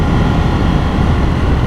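Steady broadband engine and wind roar from a KTM Duke 890 motorcycle being ridden on the road, loud and continuous for a short stretch with no other sounds.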